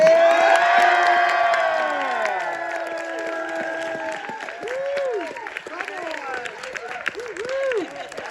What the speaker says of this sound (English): I appreciate that we're clapping hands and not saluting